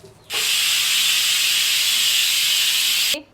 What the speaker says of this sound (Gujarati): વાગી ગઈ છે એટલે આપણું કુકર ઠરે છે